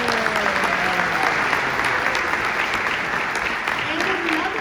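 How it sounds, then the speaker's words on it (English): Steady, dense applause from a concert audience at a candlelit Christmas string performance, honoring a violinist; loud and continuous throughout, with faint voices mixed in. "Please give a round of applause to our violinist, Teresa"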